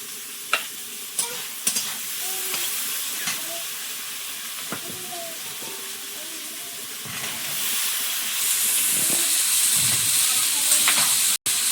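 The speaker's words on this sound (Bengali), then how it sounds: "চিংড়ি মাছটা লবণ হলুদ দিয়ে ভেজে নিলাম" Prawns frying in oil with salt and turmeric, a steady soft sizzle with occasional stirring clinks and taps, the hiss growing brighter and louder toward the end.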